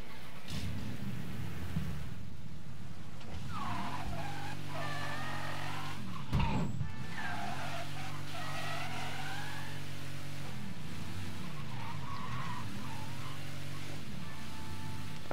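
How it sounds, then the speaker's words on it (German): In the video game Mafia 3, a car engine drones and revs while tires squeal and skid repeatedly, steady and mid-distance, with no talk over it. "jetzt darf ich auch mal Motorsound hören"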